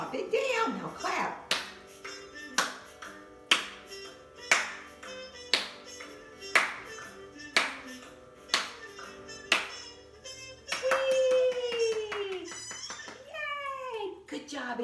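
Children in a music class clap hands together in a steady, evenly spaced beat of single claps along with music, then the clapping stops and sung or spoken voices take over.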